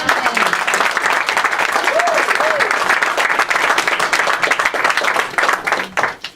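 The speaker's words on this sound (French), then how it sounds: "Acclamez le Seigneur pour mon interprète." A church congregation applauds an interpreter, loud sustained clapping filling the room from start to finish, with a few voices mixed in beneath the hands.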